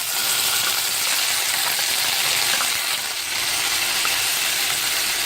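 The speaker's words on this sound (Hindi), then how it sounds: "अब हम इसमें प्याज डालते हैं।" Onions frying in hot oil with garlic give off a loud, constant sizzle close to the pan, a dense hiss that stays even throughout with no talking.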